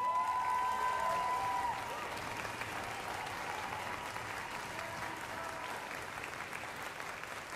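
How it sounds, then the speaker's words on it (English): At a university wind symphony concert, an audience applauds the flute section. The clapping is moderately distant and sustained, with a lingering held instrumental note in the opening seconds before the applause continues alone. "give them a rousing applause"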